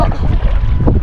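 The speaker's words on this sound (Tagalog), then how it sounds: "Yan yung hangin mga kaidol, sobrang lakas." Strong wind buffeting the microphone outdoors, a loud, gusting low rumble throughout.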